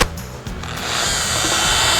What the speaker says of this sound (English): Sanding the glass away.